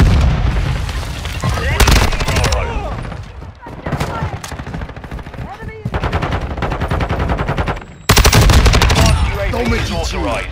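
Loud, near automatic gunfire from Call of Duty Modern Warfare 2 multiplayer, in dense rapid bursts with heavy booming shots, nearly continuous with brief lulls.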